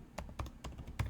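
Four or five crisp keystrokes on a computer keyboard, close and fairly quiet, arrive in quick succession with no talk.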